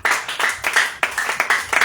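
A church congregation at an evening worship service in Bouaké claps in a loose, strong rhythm, about two claps per second, loud and close, with faint acclaiming voices mixed in.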